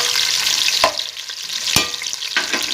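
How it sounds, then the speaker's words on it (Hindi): Onions sizzle in hot oil in a pan as the base for a Punjabi dhaba-style mixed vegetable pulao, with a steady frying hiss and a few sharp spoon scrapes against the pan. "प्याज को मैं लाइट ब्राउन करूँगी।"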